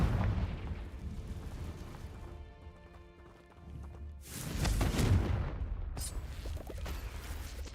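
The Confringo blast spell goes off in Hogwarts Legacy as a deep, rumbling explosive burst that swells and then decays, with a second sharp hit soon after, under quiet game ambience.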